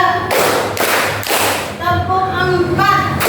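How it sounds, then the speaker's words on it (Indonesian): A classroom of children claps in loud, rhythmic bursts during a counting clap game, followed by close young voices chanting together. "ayo kita tepuk dulu"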